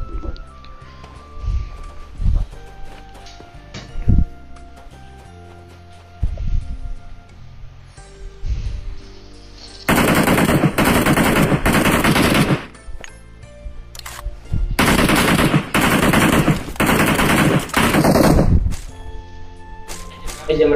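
Bursts of loud video game gunfire, two dense stretches of rapid shots, with quieter clicks and game noise between them and people talking casually before the shooting.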